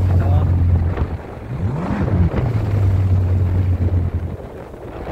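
A Yamaha FZS 1800 SHO jetski with a newly installed freeflow muffler revs on the water, a loud steady engine drone that rises and falls in pitch with throttle, close up with wind noise and some voices.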